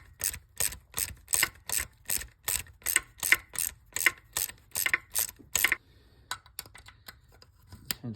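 A socket wrench ratchet loosens a bolt on the intake of a 1995 Mustang GT, giving about fourteen quick, evenly spaced clicking strokes at close range, followed by a few sparse, fainter ticks.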